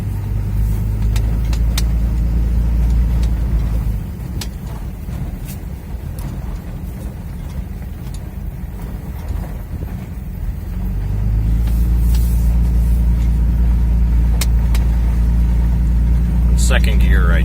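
A 2003 Dodge Ram 2500 with the 5.9 Cummins diesel driving in second gear over a rough stretch, a constant deep engine rumble and road noise that dips midway and swells again, with occasional rattles and clunks.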